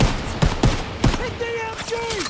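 Machine-gun fire in a WW2 shooter, Call of Duty or Medal of Honor, sounds as loud, close staccato bursts with shouted voices and battle noise in between.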